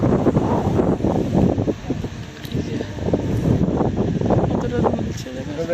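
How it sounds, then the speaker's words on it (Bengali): Strong wind roars steadily through trees, a loud continuous rushing with gusts that swell and ease. "কতটা জোড়া হাওয়া দিচ্ছে খালি গর্জনটা শোনা হাওয়া আর গাছপালা"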